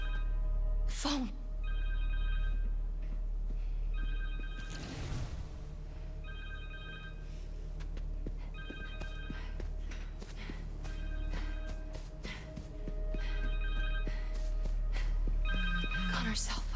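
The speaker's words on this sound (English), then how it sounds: "Connor's cell phone." A cell phone in the Spider-Man 2 video game rings in repeated short electronic trilling bursts at a steady rhythm over game sounds, with some talk and movement noise.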